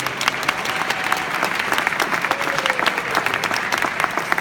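An audience at an AHA evening event in Washington, DC applauds to welcome Colby Groom onto the stage. The clapping is dense and steady, filling the whole stretch without pause.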